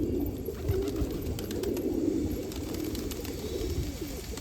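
Pigeons on a famous rooftop in Rohtak coo in a low, continuous murmuring chorus, close by and steady throughout, with faint background noise.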